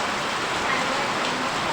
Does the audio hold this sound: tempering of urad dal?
no